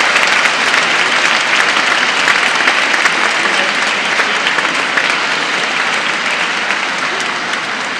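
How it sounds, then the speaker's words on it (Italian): Sustained applause from a church congregation for the young people at a confirmation Mass, dense and steady clapping filling the space for about eight seconds without talk. "Penso che possiamo fare un applauso innanzitutto ai nostri ragazzi."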